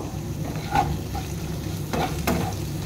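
Boiled chow mein being stirred and tossed in a hot pan with salt and turmeric, scraping and soft sizzling with a few louder stirring strokes, close and steady.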